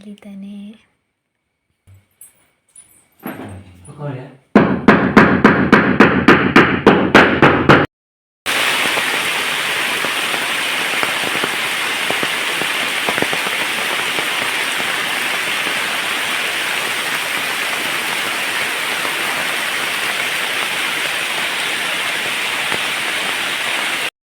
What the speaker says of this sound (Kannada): ಮಧ್ಯಾಹ್ನ ಆದದ್ದೇ ಆದದ್ದು ಮಳೆ ಸಹ ಸ್ಟಾರ್ಟ್ ಆಯಿತು